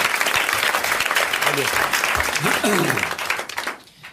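Sustained applause from a crowd, dense and steady, with voices cheering and calling out over it before it tapers off at the end.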